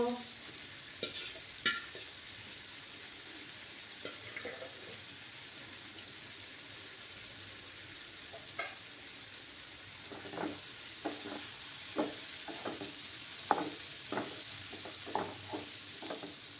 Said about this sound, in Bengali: সয়াবিন দিয়ে মশলার সাথে কষিয়ে নেব।